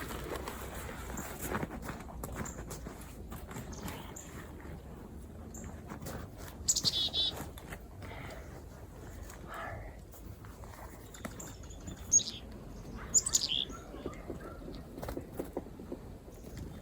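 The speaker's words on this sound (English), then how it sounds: "there's some birdies" Wild birds on a nature trail give a few faint, scattered chirps and short calls over a soft outdoor background with light rustling.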